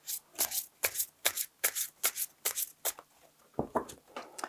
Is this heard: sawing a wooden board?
no